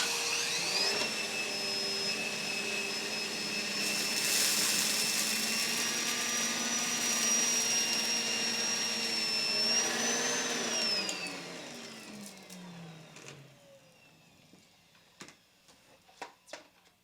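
A Henry Petcare HPC 160 vacuum cleaner running with its spinning turbo tool gives a loud, steady motor whine with a high tone for about eleven seconds, then winds down, followed by a few light clicks and knocks.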